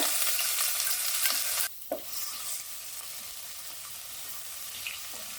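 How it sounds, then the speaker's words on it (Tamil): Ginger garlic paste with whole spices sizzles and fries in hot oil, loud and steady, then drops to a softer crackle with occasional stirring clinks. "நல்லா வந்து எண்ணெயில் வதங்கட்டும்."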